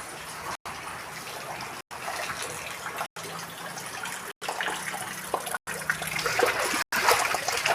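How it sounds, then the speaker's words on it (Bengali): Water splashes and sloshes inside a house flooded by heavy rain, a steady broadband wash that runs in several stretches broken by short silent cuts, close and fairly loud, with no clear talk. "দেখো, সব ঘরের মধ্যে জল হয়ে গেছে"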